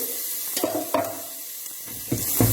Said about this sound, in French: on va faire revenir nos oignons, nos échalotes gentiment